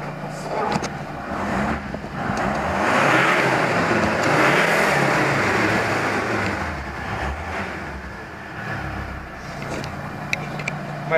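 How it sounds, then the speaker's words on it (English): A 2012 Volvo XC90 turbo diesel engine revs up from idle, its hum swelling for a few seconds before easing back down. The engine stays fairly muted, and faint clicks and rustles sound close by. "I'll just rev up. Pretty quiet car actually."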